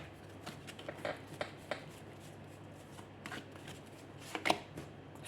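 An angel oracle card deck is shuffled by hand in a quiet room, giving soft, close riffles and flicks with a few sharper slaps scattered through the handling and no talking.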